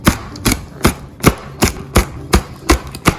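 Large green chillies finely sliced with a knife on a board: about nine crisp, evenly spaced chops in a steady rhythm, close and loud.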